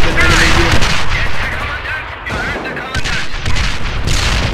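Dense battlefield gunfire and heavy artillery in Company of Heroes (Europe at War mod), Oosterbeek battle: continuous loud rifle and machine-gun bursts with booming impacts throughout, voices talking over the combat.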